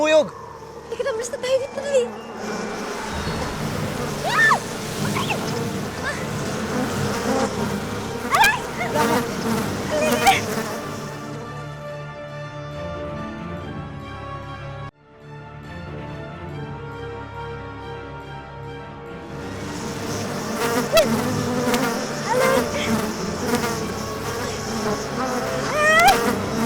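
A large bee drones loudly and continuously, swelling and fading as it moves near and away, while people shout and talk anxiously over it.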